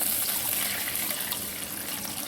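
Water pours steadily from a tap into a cup being measured for cooking soaked basmati rice, a continuous close gushing splash with no talk over it.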